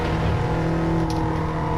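A 2013 Dodge Viper GTS in a racing video game at Suzuka, its engine holding a steady, loud, droning note as the car accelerates, with no talk over it.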